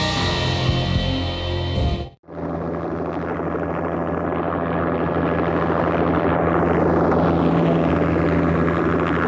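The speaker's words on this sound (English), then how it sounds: "An armed helicopter just landed on the manor grounds." An armed helicopter landing on manor grounds in the video game Max Payne, a loud continuous rotor and engine roar that cuts out briefly, then returns and holds steady and close, with no speech.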